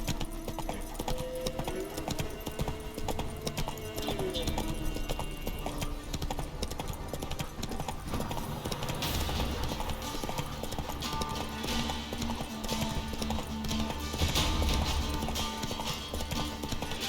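Roach, a horse in The Witcher 3, trots with brisk, rhythmic hoof clip-clops that continue steadily throughout, layered over game music and ambience, with a louder swell later on.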